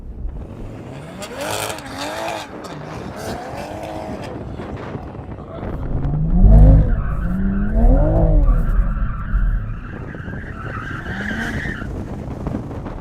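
Tyres spin and squeal through a burnout as an engine revs hard, warming the tyres before a drag race; the screech rises and falls over several seconds, loud and close.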